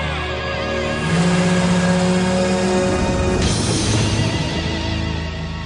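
A cartoon school bus engine revs up loudly, a droning motor tone that climbs in pitch and then shifts as it roars on, close and dominant with no talking.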